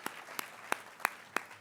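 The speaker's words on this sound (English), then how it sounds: "Let's give Mark and Lily, Scott, and Rabbi Cosgrove another round of applause" Sparse clapping at a conference summit: five distinct claps spaced about a third of a second apart, fairly quiet, with no voices over them.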